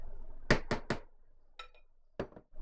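Bean soup being stirred in a kitchen pot, with a quick run of three clinking scrapes followed by a lighter rattle and two more brief knocks, fairly quiet and close with pauses between strokes.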